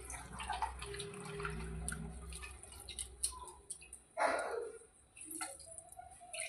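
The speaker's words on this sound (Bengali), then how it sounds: "আমরা হালকা পানি দিয়ে দেবো" Water being poured into marinated mutton in a cooking pot. The quiet kitchen scene carries a short, splashy gush partway through, plus faint drips and small clinks before and after.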